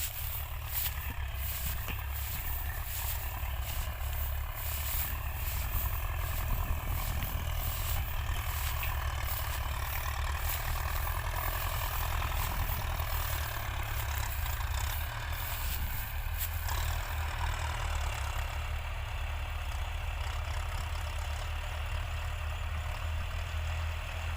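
A 50-horsepower farm tractor engine idles steadily on a hot afternoon, a continuous low diesel rumble held close and even throughout with no talk over it.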